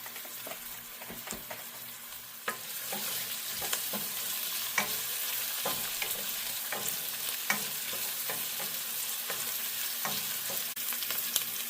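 Onions and crushed pepper fry in a pan with a continuous soft sizzle, broken by frequent sharp stirring scrapes and taps, with no one talking.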